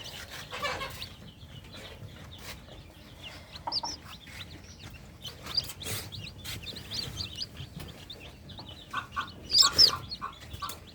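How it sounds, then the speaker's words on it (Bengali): Newly hatched chicks and a hen clucking, with soft repeated clucks and high peeping scattered across the scene, a sharper burst of calls near the end, all at moderate distance without speech. "এই যে আমাদের মুরগির বাচ্চা নতুন বের হয়েছে এগুলো মাশাআল্লাহ"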